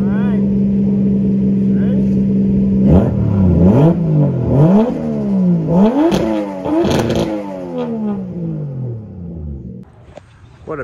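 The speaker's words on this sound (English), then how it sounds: "you should rev it." A Lexus GX470 V8 idles, then is revved several times in quick succession, each rise and fall of the engine note distinct and close, with a voice speaking briefly over it.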